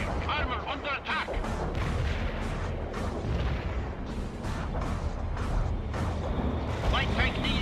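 Tank cannon fire and explosions from the video game World in Conflict form a dense, continuous barrage of booms and mechanical rumble, loud and layered under game voice callouts.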